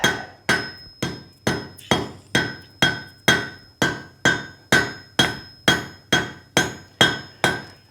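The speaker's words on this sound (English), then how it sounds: "next time I come out, we'll be ready to make the first forge weld" A hammer strikes a forge weld on a hand-forged meat hook at a light welding heat, with about sixteen sharp, ringing metallic blows at a steady, even rhythm, each one close, loud and clear.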